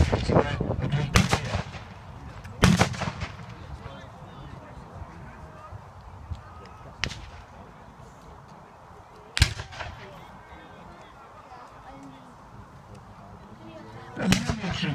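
Cannon fire from Confederate guns at an American Civil War reenactment at Spetchley Park, several sharp booms spaced a few seconds apart, distant and echoing over crowd murmur while someone narrates.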